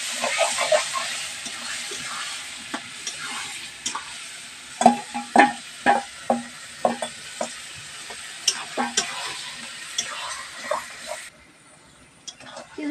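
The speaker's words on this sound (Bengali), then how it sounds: "জলের মধ্যে যে পাকা তেঁতুলটা গুলে রেখেছি সেটা দিয়ে দেবো। দিয়ে নাড়াচাড়া দিয়ে নেবো।" Soaked ripe tamarind water being stirred in a pan while making tamarind pickle, with a soft steady sizzle and a run of uneven scraping knocks from the spoon, close by.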